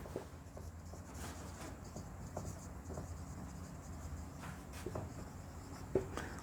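Marker or chalk writing on a classroom board during a chemistry lesson, a steady scratchy scrawl with faint taps between strokes, fairly close and alone over low room hum.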